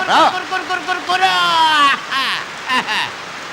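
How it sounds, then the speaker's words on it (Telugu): Heavy rain pours steadily in a Telugu comedy film scene, a broad hiss running beneath a man's loud singing and talking. "ఎంత కురుస్తావు కురు ఎన్నాళ్ళని కురుస్తావేవానా?"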